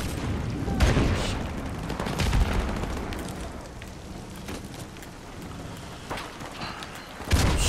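A frag grenade goes off in Call of Duty: Modern Warfare Remastered, a booming explosion followed by rumbling debris and scattered gunfire, with another heavy blast near the end.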